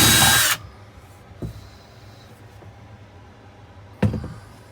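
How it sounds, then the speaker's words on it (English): Power drill with a regular bit boring through an RV camper's exterior wall, a brief loud whir at the start, then a later short burst, with faint clicks and handling noise between. "we're going to use a regular drill bit"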